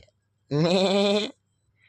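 A black sheep in the Minecraft video game gives a single clear, loud bleat of just under a second, with a wavering tone, heard alone between quiet gaps.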